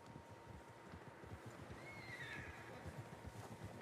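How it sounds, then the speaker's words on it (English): Horses in the Western video game Red Dead Redemption 2 let out a faint, distant whinny over a low outdoor hush, with soft hoof-like thuds underneath. "Horses, quite a few of them."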